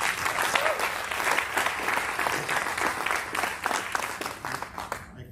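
An audience at an evening talk on Louisiana Creole peoplehood applauds, a dense continuous clapping from many hands at moderate distance, fading out at the end.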